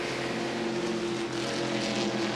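Al Unser Sr.'s race car at the 1986 Budweiser at The Glen, a steady high-pitched engine whine holding constant as it runs down the straightaway, continuous and fairly loud with no voices.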